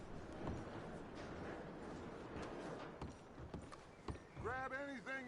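Horse hooves clip-clopping in the Red Dead Redemption 2 video game, soft irregular hoof steps under ambient noise, ending with a horse's whinny, with someone talking over it.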